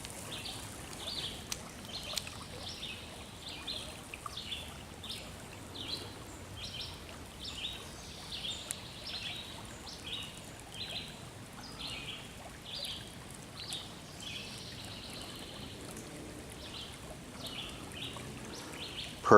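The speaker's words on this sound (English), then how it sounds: "Wonderful little bird sound." A small bird sings repeated short chirping phrases over a steady wash of flowing water in Pipe Creek, fairly faint and continuous throughout.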